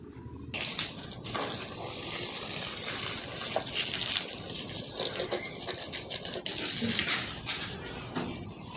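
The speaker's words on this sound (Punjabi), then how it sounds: "ਮੈਂ ਇਹਨਾਂ ਨੂੰ ਪਾਣੀ ਦੇਣਾ ਵਾ ਬੂਟਿਆਂ ਨੂੰ" A steady stream of water gushes and splashes onto plants for several seconds, close by and continuous, with small spattering bursts.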